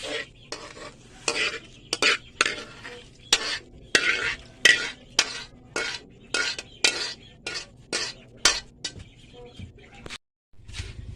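Vegetables with pork cubes are sautéed in a pan, a steady run of rhythmic stirring scrapes and clanks of a utensil against the pan, roughly two per second, over a faint sizzle, then a brief pause near the end.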